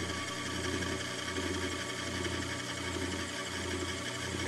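A small magnet motor generator with a main rotor and little rotors spins steadily, producing a faint, continuous mechanical hum with a soft rhythmic pulse roughly every 0.8 seconds.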